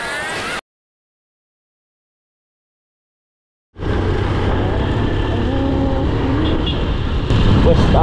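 Road traffic idles and rolls past at a stop light on West Avenue in Quezon City, a steady close engine rumble and roadway hum that cuts out into silence and then returns loud.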